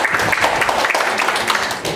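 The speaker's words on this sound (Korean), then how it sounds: "네, 박수 주세요." An audience at a press conference for a women's boxing world title bout applauds steadily, with dense clapping throughout and a voice faintly mixed in.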